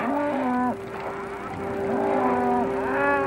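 Cows low and moo in a western film setting, several drawn-out, tonal calls overlapping nearby, some sick cattle on a ranch heard lowing loudly with little else around.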